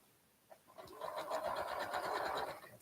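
A sewing machine starts up and stitches over fine pins, a brief click followed by a close, steady buzzing hum that runs to the end.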